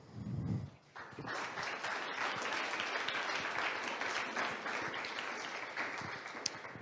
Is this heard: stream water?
no